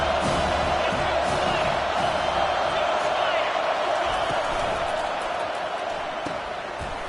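Penn State home football crowd roars with steady, loud cheering and shouting throughout, a dense continuous wall of stadium noise.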